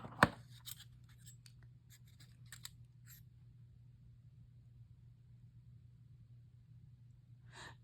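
Scissors snip scrapbook stickers in a quiet room, with a few crisp cuts in a cluster over the first few seconds and another near the end, close and soft, over a low steady hum.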